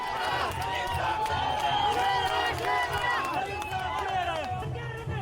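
Crowd at a BJP election rally in Kashmir chants slogans continuously, a dense mass of voices rising and falling in shouted rhythm, loud and close throughout.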